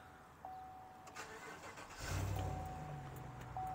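A 2016 Chevrolet Silverado LT Z71 pickup cranks and its engine catches at about two seconds, settling into a steady, close idle after a couple of soft electronic chimes from the cab.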